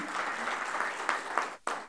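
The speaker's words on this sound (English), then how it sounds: "Can we have a louder applause," Conference audience at an energy-efficiency event on e-cooking applauds, a continuous moderate clapping that dips briefly near the end before picking back up.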